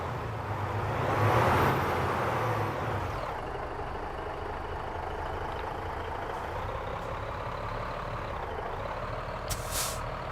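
A truck in American Truck Simulator releases its air brakes with a loud hiss as it pulls out, then a steady engine drone and rolling rumble carry on alone, ending with a short high beep-like tone.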